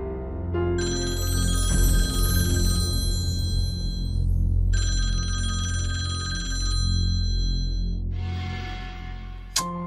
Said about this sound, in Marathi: रिंग वाजते पटकन